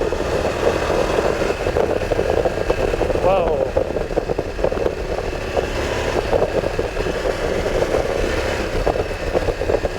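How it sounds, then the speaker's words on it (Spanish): The engine of a VOGE 900 DSX motorcycle runs underneath the rider's excited voice as he speaks over it. It is a steady, continuous drone that stays loud throughout. "Aquí hay un motor que empuja, además empuja desde abajo y estira lo más grande"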